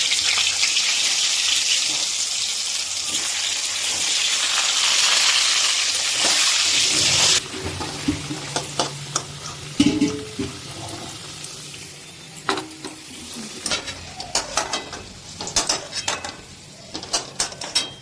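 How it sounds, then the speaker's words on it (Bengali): Potatoes frying in oil in a pan for mutton biryani, a loud steady hiss at first, then a quieter crackle with clinks and scrapes of utensils, no talking. "আবার আমরা ঠিক এই একই পদ্ধতিতে এই আলুগুলোকেও ভেজে তুলে নেব।"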